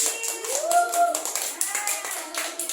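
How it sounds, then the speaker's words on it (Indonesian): Small group clapping for a colleague at a teachers' academic supervision coaching session, a brief scattered patter of hands at moderate distance, with a sustained tonal sound and some voice overlapping. "Tepuk tangan buat Mas Adi."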